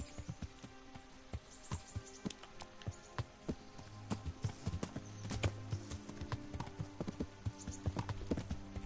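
Hooves beat in an even riding rhythm in Kingdom Come: Deliverance, a long horseback ride with continuous clip-clop, moderately loud, over a faint ambient background.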